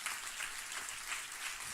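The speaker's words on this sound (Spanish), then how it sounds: "¿Puede darle un aplauso al Señor?" A church congregation gives a round of applause, many hands clapping in a continuous, fairly faint patter heard from across the room.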